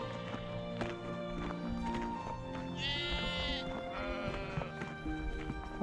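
Sheep bleat near an old iron ore mine, with a clear wavering call in the middle followed by a fainter second bleat, heard over steady outdoor background noise.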